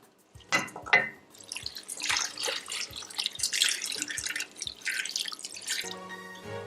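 Water splashes and trickles into a cooking pot of beef, onion, spices, ginger and garlic in uneven bursts, close by, with a few soft knocks and clinks.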